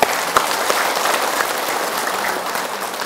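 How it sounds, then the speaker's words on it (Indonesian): A studio audience of women claps at a televised Islamic religious talk show, a steady burst of many hands with a sharp clap near the start, then tapering slightly. "Tepuk tangan ibu, ibu"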